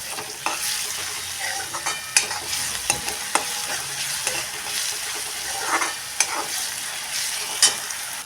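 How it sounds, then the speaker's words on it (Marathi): Green chili thecha masala fries in oil while a spoon stirs it steadily, giving a loud continuous sizzle broken by sharp scraping knocks of the utensil against the pan. "आता हा मसाला चांगलं तेल सुटेपर्यंत परतून घ्यायचा आहे"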